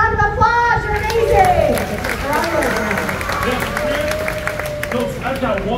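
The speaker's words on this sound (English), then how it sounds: "Give yourself a round of applause." Applause from the crowd at the Indiana Jones stunt show at Disney's Hollywood Studios, Walt Disney World, mixed with cheering and a prominent voice talking over it, the clapping loud at first and thinning out.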